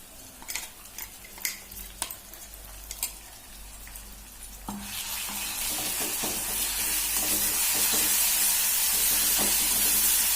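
Ground green chili, garlic and cumin paste goes into a hot pan, with a few light stirring clicks and taps first. A sudden loud, steady sizzle then swells into a hiss that lasts to the end.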